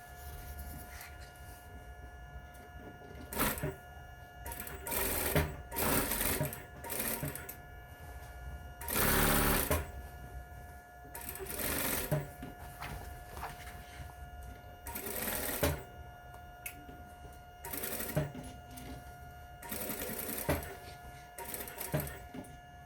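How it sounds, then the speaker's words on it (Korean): A sewing machine stitches a fabric bag seam using a magnetic seam guide set to a 1 cm seam allowance, running in several bursts of steady mechanical whirring separated by pauses, close and clear. "저는 조기를 붙여서 박음질 해보도록 하겠습니다"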